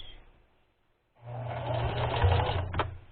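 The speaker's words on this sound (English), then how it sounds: "Let the needle down, foot down, then and then back stitch" A sewing machine back-stitches ribbon trim onto tutu socks: after a quiet pause the motor whirs up into a steady, close, rattling run of needle strokes.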